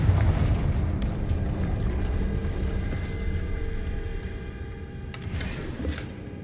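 A Confringo fire spell bursts in Hogwarts Legacy, a loud sustained rumbling blast with a sharp crack near the start and another flare of crackle toward the end, thundering continuously throughout.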